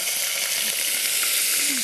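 Fish balls for a tomato-sauce fish köfte dish frying in hot oil, giving a loud, steady, unbroken sizzle and crackle throughout with no talking.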